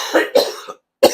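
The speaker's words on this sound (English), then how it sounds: "Sorry for all the coughing all of a sudden." A few harsh coughs in quick succession from a single person, close and loud, followed by a short silence and one more cough.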